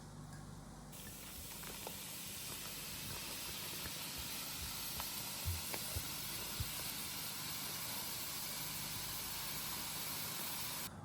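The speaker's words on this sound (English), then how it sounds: "add your Prosecco to your grapes" Prosecco fizzing and hissing as it is poured over grapes, a steady bright effervescent hiss heard close up, with small pops scattered through it and no voices.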